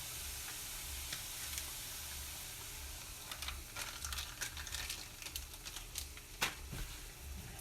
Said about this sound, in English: We're going to simmer that until it starts to coagulate and gel, gets a little bit more thick.